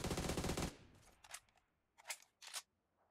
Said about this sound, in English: Now let's try the 6x scope AUG